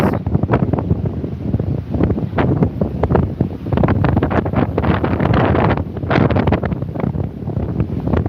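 Strong gusting wind buffets the microphone on a seaside walkway at a port, a steady loud roar with surges and no voices.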